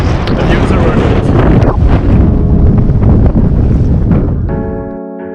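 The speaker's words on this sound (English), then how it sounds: "headwind is strong" Strong headwind buffets a microphone during a long road bike ride, a loud, roaring rush of wind noise that tapers off slightly near the end.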